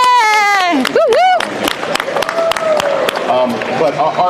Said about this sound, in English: Round of applause for all the Aptera.